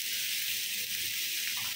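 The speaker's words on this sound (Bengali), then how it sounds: "এখন শুকনো শুকনো করে ভাজি করে নেব।" Tomato seasoned with salt and turmeric frying dry in a pan, a soft, even, continuous sizzle with no other sounds.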